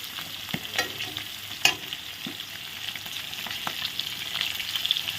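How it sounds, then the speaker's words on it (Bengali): Pieces of katla fish frying in hot oil beside onions, a steady near sizzle with a few sharp pops and utensil knocks, and the crackle grows slightly busier toward the end. "এখানে মাছগুলো ভাজা হচ্ছে"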